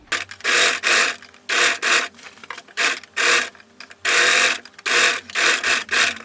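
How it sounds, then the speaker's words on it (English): A sewing machine stitching darts on a dress runs in short bursts of rapid whirring stitches, separated by brief pauses and soft fabric handling, close and fairly loud with no talking. "I'm going to start from the top, sewing it all the way coming down till there"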